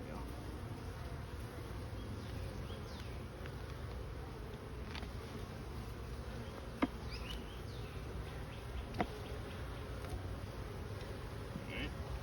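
Honey bees buzz continuously around an open hive during a hive inspection as frames are handled, a steady close swarm drone with a couple of faint clicks, occasional soft talk in the background.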